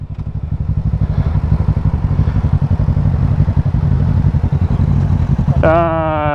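A motorcycle with a freshly fixed clutch revs hard and accelerates, its engine a loud, rapid throbbing pulse, up close for several seconds during a late-night ride, before a different steady rising engine tone cuts in at the end.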